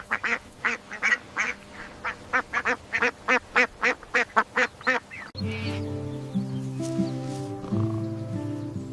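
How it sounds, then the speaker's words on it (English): A large black farm duck quacks in a rapid run of about a dozen loud, close, evenly spaced quacks, then the sound shifts to a tonal humming background for the last few seconds. "This is a large black farm duck."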